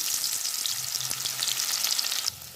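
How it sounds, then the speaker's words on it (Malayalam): Food frying in hot oil in a home kitchen, a steady close sizzle with bubbling crackle throughout that drops suddenly quieter near the end, with no one talking. "എണ്ണയിൽ കിടന്ന് നന്നായിട്ട് വെന്ത് വരുന്നുണ്ട് കേട്ടോ"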